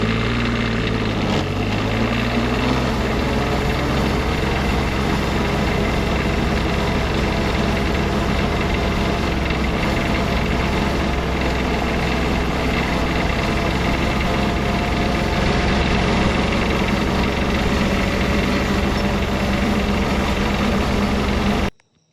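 A custom diesel engine fitted to a Power Wheels ride-on runs at full throttle, a steady loud droning rumble that holds for about twenty seconds before cutting off abruptly at the end, with no voices.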